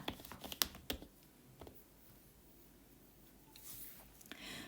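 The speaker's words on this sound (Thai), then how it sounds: "พิมพ์คำว่า YouTube ค่ะ" A few quick keystrokes land on a computer keyboard as a word is typed, a faint close burst of clicks at the start before the room goes quiet.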